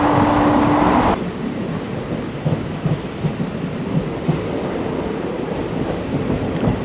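Passenger train 56603 running toward Mannanur station, a steady rumbling roar of wheels and carriage after a brief louder hum at the start, heard from on board with no talk.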